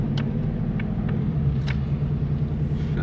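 A 2026 Ford Mustang GT driving on open road, a steady low engine rumble and road drone from inside the cabin, constant and moderately loud with no clear revs.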